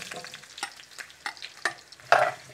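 Vegetables crackle and spit in hot oil in a pot ahead of parboiling, an uneven series of close sizzling pops and stirring scrapes, with one louder burst near the end.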